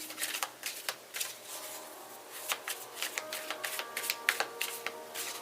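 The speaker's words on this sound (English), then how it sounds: "do 3 shuffles after this one." Tarot cards being shuffled by hand during a reading: quick, close riffling and flicking bursts that repeat in an uneven rhythm, crisp and fairly quiet, with no talking.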